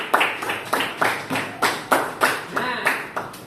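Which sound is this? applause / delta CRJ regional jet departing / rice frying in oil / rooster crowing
applause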